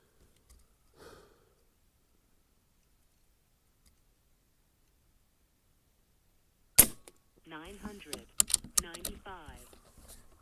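A single sharp crack from an Umarex Gauntlet 2 .30 caliber air rifle firing a slug, near and loud after a long quiet stretch, followed by rustling, clicking handling noises and a voice speaking.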